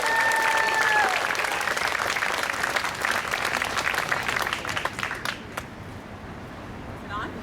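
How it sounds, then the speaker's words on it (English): Audience applause at a Philippine flag-raising ceremony as the Premier of Ontario is welcomed to the podium: dense, sustained clapping with crowd voices mixed in, loud at first, then thinning out and dying down near the end. "Let's give her a big round of applause."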